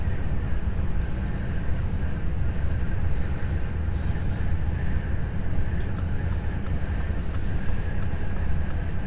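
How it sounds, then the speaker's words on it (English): Strong wind buffets a vehicle cruising along a new highway in Poland, a steady, loud low rumble and roar mixed with road noise that lasts the whole stretch without letting up. "It's very windy, probably you can hear, it's very windy."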